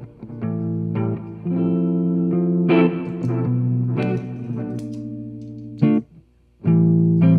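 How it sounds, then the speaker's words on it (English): Dry electric guitar loop played back from a looper pedal with drive, reverb and delay switched off, repeating chord phrases in steady bursts with a brief gap near the end. "Now we got a really dry loop."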